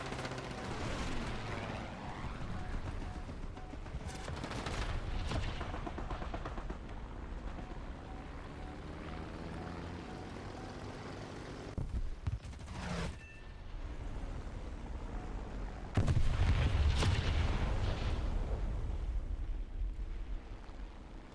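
Gunfire from an AA vehicle in a tank video game, bursts of distant shooting and explosions heard in clusters amid engine rumble, with one louder close burst near the end.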